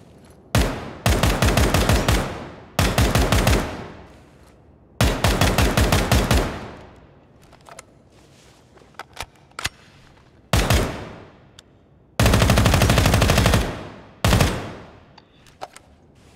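A SCAR rifle fires in the tactical shooter game Ground Branch, delivering loud full-auto bursts and some single shots separated by short pauses, each burst cracking close with a ringing tail.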